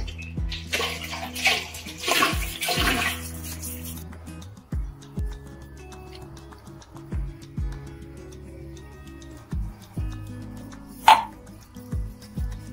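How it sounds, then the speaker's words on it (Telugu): Water pours in a short steady stream for a few seconds onto a spoonful of baby food powder, followed by quieter clinks and faint movements, with no talking. "1 స్పూన్ వేసుకొని వాటర్ వేసుకుందాం"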